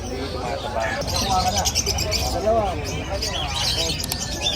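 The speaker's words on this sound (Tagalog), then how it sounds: "Ito naman po ay mga puro ibon." Birds for sale chirp and coo in a busy, crowded public market in Hulong Duhat, with steady chatter and bustle throughout and people talking nearby.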